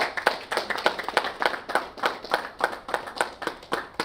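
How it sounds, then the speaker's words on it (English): A small audience claps for a panel chair at a business conference on creative industries and sports; a sparse, distinct rhythm of individual hand claps runs steadily for about four seconds. "Nkechi Obi, please give her a round of applause"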